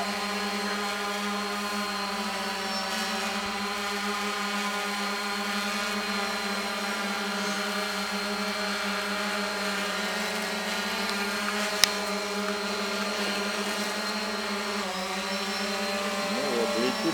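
A Xiro drone hums with a steady, whining, multi-toned rotor drone as it flies home, holding a constant pitch throughout with a slight wobble near the end and a single click midway.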